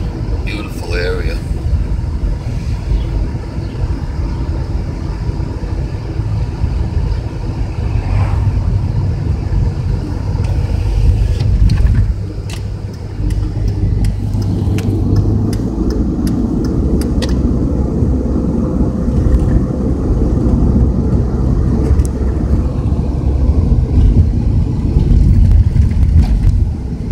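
A car drives along a road through farmland, its steady low engine and road rumble filling the cabin throughout as people talk inside over it.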